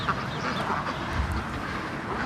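Ducks being fed bread, a dense flock quacking continuously up close, overlapping nasal calls forming a busy steady chatter.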